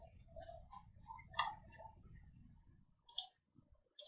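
Computer mouse clicks while working in CAD software: faint scattered soft clicks early on, then two sharp, close, distinct clicks near the end, with no talking.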